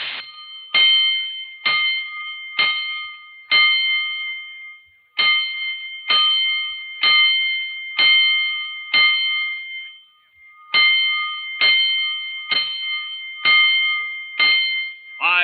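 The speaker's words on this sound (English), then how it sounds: "Five bells." Five groups of fire alarm bell strokes from a 1949 radio drama ring out in a crisp metallic pattern, each group made of several evenly spaced dings separated by short pauses, loud and close with no talk over them.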